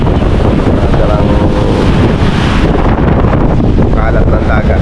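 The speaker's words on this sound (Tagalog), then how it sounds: "Wala nang ulan pero mahangin pa rin." Strong, steady wind at the seashore after rain buffets the microphone in a continuous loud roar, with a broad rushing wash like surf along the shore underneath.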